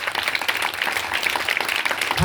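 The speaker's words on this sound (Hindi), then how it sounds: "जोरदार तालियां पास्टर के लिए।" Brief, lively clapping from a church congregation applauding a pastor, with a dense patter of hands over a short span and a faint murmur of voices beneath.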